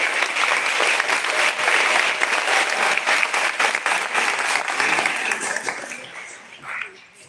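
An audience at a student awards ceremony gives a round of applause, close and lively clapping that holds steady and then tapers off, with scattered voices in the crowd.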